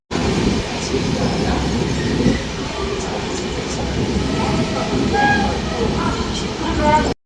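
A passenger train on an overnight run rumbles steadily along its rails, a dense continuous roar with faint rattles and squeaks from the carriage, heard from inside and without pause.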